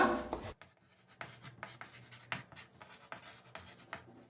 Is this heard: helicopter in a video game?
no